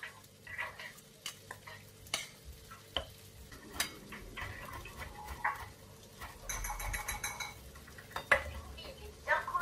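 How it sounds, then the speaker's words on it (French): Food gets mixed in a bowl, with intermittent spoon scrapes and light clinks against the dish in an irregular rhythm, moderately close and fairly quiet. "On mélange bien."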